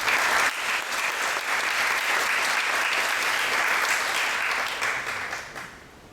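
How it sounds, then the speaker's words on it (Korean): Sustained audience applause fills an indoor architecture forum as the institute director is welcomed to give the opening address, a dense steady clapping that holds evenly for several seconds before tapering off near the end. "큰 박수로 맞이해 주시기 바랍니다."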